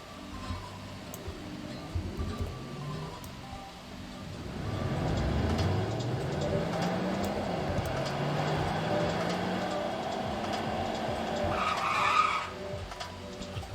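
A 2021 Porsche Taycan electric car driving normally, with a rising whine that sweeps upward as it gathers speed over a low road rumble, moderately loud and heard alone.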